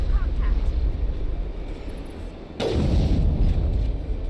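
Gunfire in the sci-fi shooter Mass Effect, a sudden loud burst of shots breaking in over a dense rumbling battle din, continuing as a steady heavy roar to the end.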